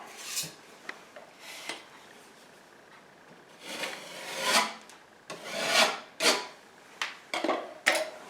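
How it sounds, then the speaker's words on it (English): A flat trowel scrapes excess spackle off a patched wall hole in a series of separate raspy strokes, some short and some drawn out, fairly close and with no voices. "you take your flat trowel like this and you just rub it off"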